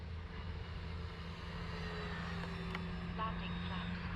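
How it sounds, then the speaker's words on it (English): An E-Flite RV-7 radio-controlled model airplane flies nearby with a steady engine drone, a continuous hum that holds level throughout, with faint higher whines drifting in and out. "That's just a fun little plane to fly, it really is."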